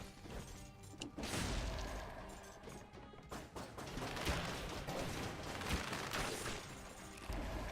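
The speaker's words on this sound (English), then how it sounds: "Die to your own grenades" Grenades in the video game Dead Cells go off in a dense run of crashing, thudding explosions mixed with smashing impacts and busy game noise, loud and continuous throughout, with no voice heard.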